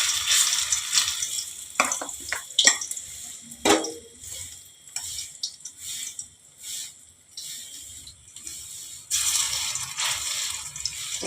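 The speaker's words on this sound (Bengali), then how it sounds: "এবারে আস্তে আস্তে করে কম আঁচে ভাজতে হবে।" Poppy seed fritters frying in oil over low heat, a soft ongoing sizzle broken by scattered clicks and scrapes of a utensil, moderately close with no voices.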